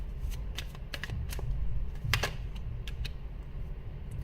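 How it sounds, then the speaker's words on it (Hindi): Tarot cards are shuffled and drawn close by, a soft run of quick papery riffles and snaps with a few sharper flicks, alone without talking. "अब जो दूसरा व्यक्ति है उनके लिए कार्ड्स निकाल के देखती हूँ"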